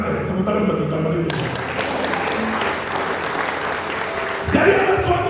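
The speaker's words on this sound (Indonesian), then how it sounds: "Tepuk tangan bagi gambar itu." Congregation at a live church sermon applauds steadily, a dense wash of clapping that swells mid-way and stays loud for several seconds, with a brief voice near the end.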